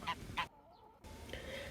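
Geese honk angrily in two loud, close bursts, then the calls fall away into a short near-silence before softer, more distant honking and barnyard noise return.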